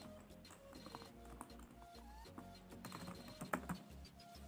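Light, quick key clicks come from someone typing an email address on a computer keyboard. The tapping is steady and irregular and sits under a faint tonal background.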